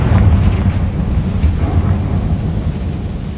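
A Confringo spell explosion in Hogwarts Legacy, a loud, heavy rumbling blast that rolls on without letting up for a few seconds.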